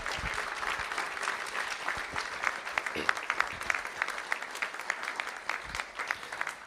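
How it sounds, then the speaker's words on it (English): Steady, dense applause from the audience at a school board meeting of trustees, filling the room evenly for several seconds at moderate loudness with no talk over it. "Let's give them a round of applause."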